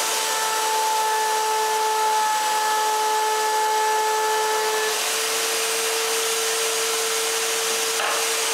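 A power tool cuts grooves in wood panels for a bathroom vanity, giving a loud, steady whine that holds evenly, shifts pitch about halfway through and keeps running, with no talk.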